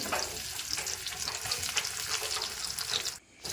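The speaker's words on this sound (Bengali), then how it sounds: "এই পেঁয়াজ কাটাগুলো এবার তেলে দিয়ে দেবো, ভালো করে ভেজে নেবো।" Steady, crackling sizzle of onions frying in hot oil, continuous and close, with a brief dip near the end; no voices.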